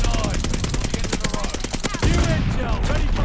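Rapid automatic gunfire from Call of Duty Vanguard multiplayer rattles in quick, even bursts for about two seconds. A heavier blast and rumble follow, all loud and close.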